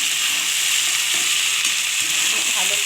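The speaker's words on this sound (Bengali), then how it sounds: "এটাও ভেজে নেবো একটু" An ingredient for Katoa-style posto frying in a pan: a steady, bright sizzle dominates throughout, with faint stirring scrapes underneath and no voices.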